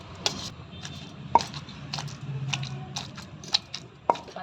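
Brinjal is pounded in a stone mortar for a chutney, giving a string of dull, moist thuds and squishy knocks at an uneven pace, close and fairly quiet.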